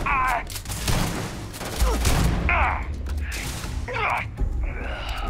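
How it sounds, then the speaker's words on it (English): Shotgun fire in the video game Starfield, in a melee-focused run on very hard difficulty: heavy blasts go off at irregular moments, mixed with loud combat noise and game effects throughout. "let me try the shotgun"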